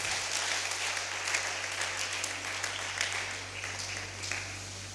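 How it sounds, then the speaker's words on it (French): Steady applause from a church congregation, moderately faint and continuous throughout, with no voices standing out. "On peut applaudir la parole du Seigneur"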